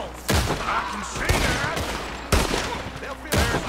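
Gunfire in Red Dead Redemption: four loud, sharp gunshots spaced about a second apart, each with a short rolling echo, over steady game ambience.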